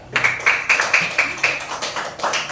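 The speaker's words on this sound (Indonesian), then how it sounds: "kasih tepuk tangan untuk Azril." Classroom applause for a student at an elementary school, a steady run of bright, rhythmic claps repeating about twice a second, fairly close and with no talking over it.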